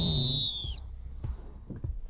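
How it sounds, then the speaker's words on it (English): A referee's whistle blown at full time of a Forest Green Rovers versus Oldham Athletic football match, a single high shrill blast lasting under a second, followed by faint crowd noise and scattered thumps. "Blow that whistle, Cal."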